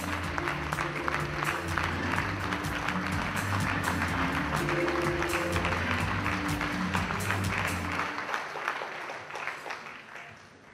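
A church congregation claps in sustained applause over a low musical backing, the clapping dense and lively for about eight seconds before fading away.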